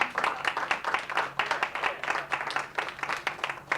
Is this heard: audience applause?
yes